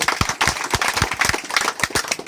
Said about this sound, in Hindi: एक बार खुद के लिए जोरदार ताली बजा दीजिए